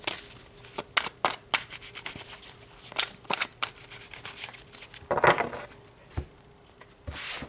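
Tarot cards being shuffled by hand, a run of quick papery riffles and slaps with a few sharper flicks, close and fairly quiet, with no talking.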